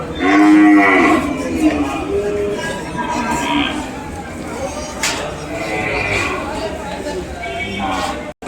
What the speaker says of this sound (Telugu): ఇవన్నీ ఆవులు.